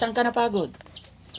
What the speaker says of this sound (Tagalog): Ba't ang daming manok dito? Ang ingay.